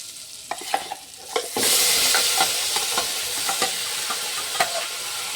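Ground spice masala with red chilli, coriander powder, salt and turmeric is stirred in a pan: spoon scrapes and taps come first, then a loud sizzling hiss starts as the wet masala hits hot oil, with continued stirring.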